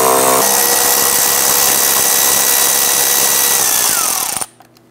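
A power tool whirs loudly and continuously close by while loosening and removing 8mm screws along the bottom of the radiator on a 2011–2019 Ford Explorer, then winds down and stops abruptly near the end.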